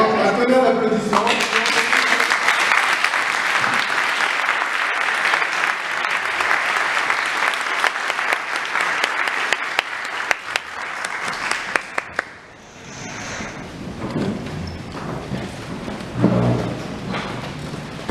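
Loud, sustained audience applause fills a hall for about twelve seconds with dense clapping, then fades and gives way to a voice speaking over a quieter room.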